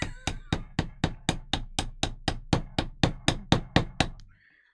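A hammer strikes a knife blade set into a very hard piece of coal, giving about fifteen sharp, loud metallic whacks in a fast, steady rhythm close by, then stopping.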